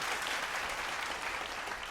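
Steady, faint applause from a church congregation in praise of the Lord during a Spanish-language sermon, even and continuous throughout.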